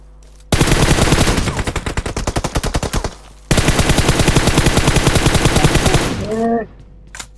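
Automatic gunfire in the mobile battle royale game PUBG Mobile, two loud close bursts of rapid rhythmic shots separated by a short pause, ending with a brief tonal game effect.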